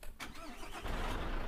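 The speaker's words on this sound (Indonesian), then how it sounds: "kita nyalakan dulu mesin truk umplung ini" An "umplung" coal-hauling truck in a driving game cranks briefly, then catches and settles into a loud, steady, rumbling idle up close.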